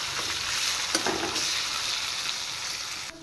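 Chopped onions fry with whole spices in an oiled pan for prawn curry, a dense close sizzle with scraping stirs through it that drops away sharply near the end.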